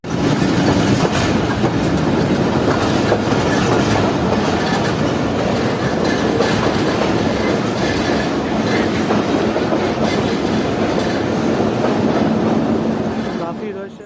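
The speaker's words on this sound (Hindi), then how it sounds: "तो अब ट्रेन हमारी पहुंच रही" Jaffer Express passenger train rolling along tracks in Pakistan, a steady loud rumble of wheels and carriages with faint clickety-clack running throughout, heard from on board, with occasional voices underneath.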